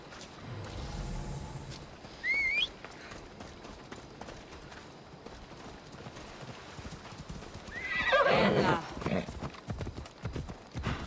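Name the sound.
horse galloping and neighing in video game Assassin's Creed Odyssey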